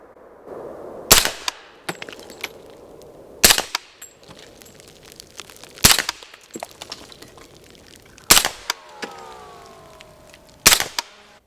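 Five sharp, close shots from an Extar EP45 air pistol fired at a paper target on a range, evenly spaced about two and a half seconds apart, with small clicks and handling noises between them.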